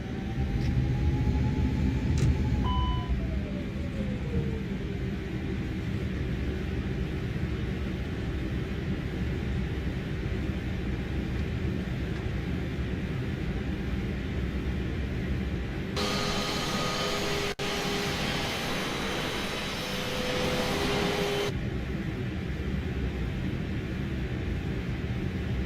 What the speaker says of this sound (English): Those engines sound nice, man.